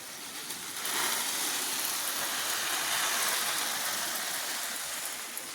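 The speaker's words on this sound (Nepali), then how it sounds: "पानी हल्ला लाउनु भएको" Rain water makes a continuous broadband rushing hiss in a village, steady and fairly soft throughout with no voices.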